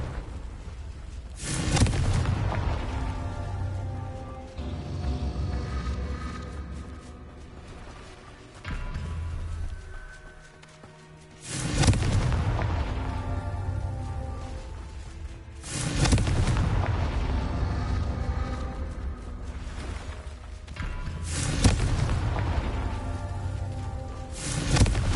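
Repeated heavy blast bursts from the Confringo fire spell in Hogwarts Legacy, four loud booming explosions at a few seconds' spacing, each with a rumbling tail, over steady game background noise.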